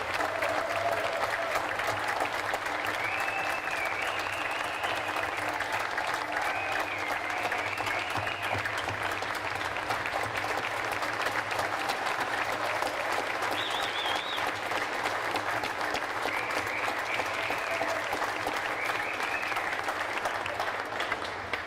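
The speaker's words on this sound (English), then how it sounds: "Please, let's give her a warm round of applause." Steady applause from a large outdoor crowd at the 2021 Iowa State Fair opening ceremony, continuous and somewhat distant, with occasional faint voices and tones over the clapping.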